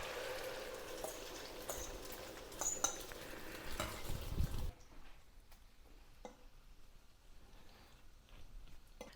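Spanish tortilla frying in hot olive oil in a pan, a steady sizzle that is louder at first, then drops to a quieter, softer frying with occasional small clicks, no voices.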